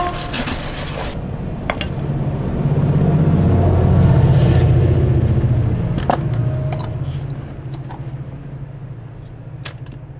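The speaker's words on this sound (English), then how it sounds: "Now I clean the table" Steady rubbing and scraping of a table surface before thermite welding of a ground ring, continuous and fairly close, swelling louder in the middle with a low rumble underneath and a few sharp clicks.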